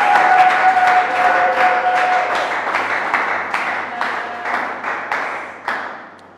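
A church congregation applauds together, steady mass clapping with a few faint voices mixed in, gradually thinning and fading toward the end.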